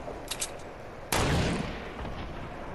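Gunfire in the Fortnite video game: a couple of faint distant shots, then one loud, sharp blast that decays into a rumbling tail, with no talking.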